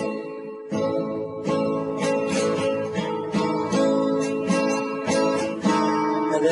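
An acoustic guitar with a capo is strummed steadily and close up, ringing chords with rhythmic down-up strokes, played alone without any voice.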